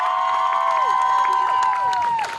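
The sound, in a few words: audience applause at graduation ceremony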